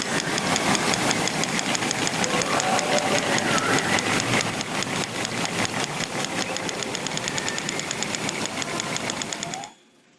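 Narwhal echolocation clicks come in a dense, rapid, buzzing train of sharp broadband pulses that stays steady and loud for about nine seconds, then cuts off abruptly.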